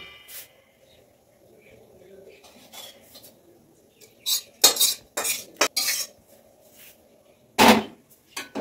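Spoon mixing chopped tomato and coriander chutney in a bowl, heard as scattered metallic clinks and scrapes, with a few louder clatters near the middle and end, fairly close and otherwise quiet.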